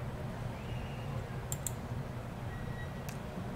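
A computer mouse gives a few sharp, faint clicks to download a file, two close together and one later, in a quiet room.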